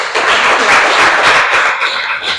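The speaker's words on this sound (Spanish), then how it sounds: "le vamos a dar un aplauso de ánimo" A short burst of dense clapping from a group, loud and close, rising and falling slightly before tapering off.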